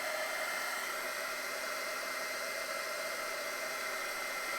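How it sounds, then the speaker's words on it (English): An embossing heat tool blows steadily while it melts embossing powder along the edges of a junk-journal jewelry piece, making a continuous airy hiss at low volume that holds without a break. "Just going to emboss those edges"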